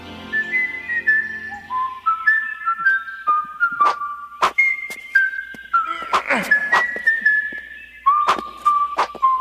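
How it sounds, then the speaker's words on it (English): A cartoon character whistles the bouncy Super Mario Bros. theme, clear and close, with short stepped notes and a few sharp clicks and knocks between phrases. "we open with Link whistling the Super Mario Bros. Theme"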